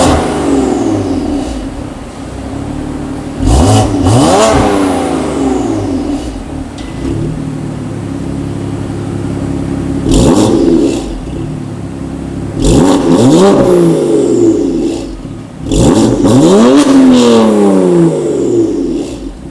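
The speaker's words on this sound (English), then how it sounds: "You can hear that exhaust" Car exhaust fitted with an AA Equal Length v2 mid-pipe, revved repeatedly in four or five sharp bursts that rise and fall, loud and close, with a steady burbling idle between them and no talking.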